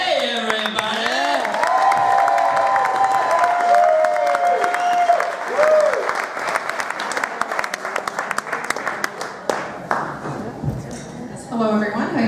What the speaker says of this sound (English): Make a big round of applause for Karen Renee, everybody.